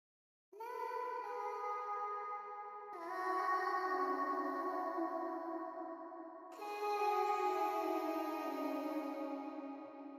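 A spacey vocal chop sample from Arcade in Logic Pro X plays alone: three long, breathy sustained tones, each shifting to a new chord, bright and airy with wide reverb.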